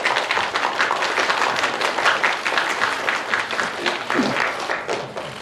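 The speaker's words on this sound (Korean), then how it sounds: "다시 한번 큰 박수 부탁드리겠습니다" A ceremony audience applauds at an environment ministry climate change ambassador appointment: continuous, fairly loud crowd clapping held steady throughout, with a faint voice underneath.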